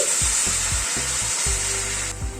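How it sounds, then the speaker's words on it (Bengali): Mutton sizzles loudly in a pan, with steady broadband frying hiss throughout and a few low thumps as hot water goes in, the sizzle easing near the end. "এবার গরম জল অ্যাড করে দিচ্ছি।"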